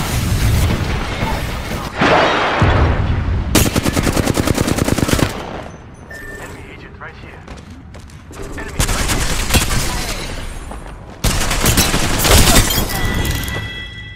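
Gunfire in the Apex Legends video game comes in rapid automatic bursts with short pauses between volleys, loud and close, with in-game voice lines mixed in.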